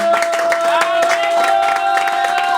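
A church congregation at a Sunday service cheers and claps in acclaim, loud and continuous, with voices shouting over sustained applause and an organ-like tone held underneath.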